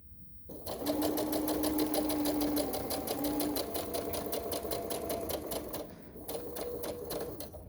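A sewing machine back stitches a little dress in a steady, fast rapid-fire stitching run with a brief pause and restart near the end, close and fairly quiet.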